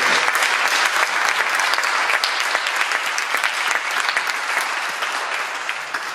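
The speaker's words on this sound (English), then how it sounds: "a round of applause for our great judges as well." Audience applause fills an indoor speaking event, a steady dense round of clapping that stays loud throughout before easing slightly at the end, with no talk over it.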